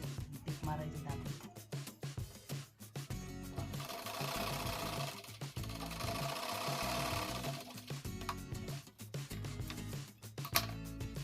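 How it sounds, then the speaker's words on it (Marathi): A sewing machine stitches men's underpants, running in a steady mechanical rattle with brief pauses and restarts throughout, close and fairly loud, with some speech in the background. "एका साईडला घ्यायचे शिलाईचं थोडं टीप मारायचे दाबटीप"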